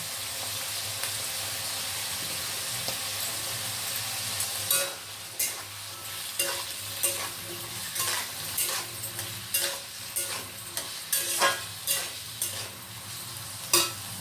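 Cashew nuts fry in oil for fried rice with a steady hiss, and about a third of the way in, rhythmic scraping stirs of a utensil begin and keep going.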